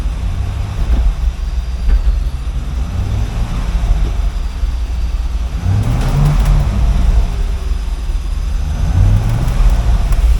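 The engine of a 2013 Chevrolet Camaro SS rumbles loudly and continuously while it runs through its gears, with rising revs now and then.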